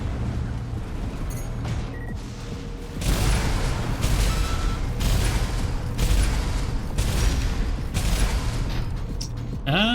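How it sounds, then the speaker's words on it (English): A burst assault rifle in the Armored Core 6 video game fires repeated heavy bursts in a regular rhythm, loud and booming over a constant mechanical rumble. "We also got the burst assault rifle."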